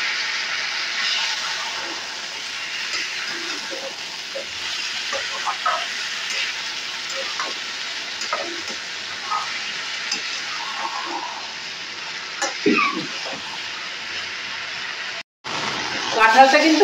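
Raw jackfruit curry sautéing in a pan, a steady soft sizzle with occasional stirring clinks, heard under a voice talking.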